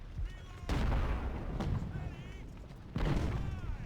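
Civil War troops fire volleys in the Ultimate General: Civil War strategy game. Three heavy bursts of gunfire break through a steady battlefield rumble, and faint whistling tones trail behind them.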